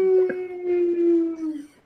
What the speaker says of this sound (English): That was the sound of all the neighborhood dogs writhing in agony.